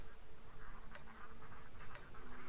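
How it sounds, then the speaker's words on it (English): Ducks quack in the World of Tanks video game, soft and distant under a constant low mechanical rumble, with a few short quacks scattered through the stretch. "the ducks are here somewhere"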